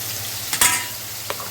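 Spices such as garam masala and chili paste frying in a pan for a vegetarian soybean dish, a soft steady sizzle with one brief stirring scrape and a quick clink.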